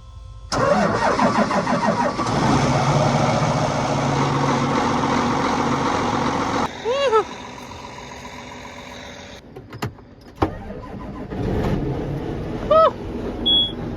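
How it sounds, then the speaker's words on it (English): A tractor engine on a North Dakota wheat harvest cranks and catches, then settles into a loud steady idle close by, followed by some clunks and a few shorter mechanical squeals. "Since Matt turned my tractor on yesterday and he's moving pickups, I suppose I'll turn his on today"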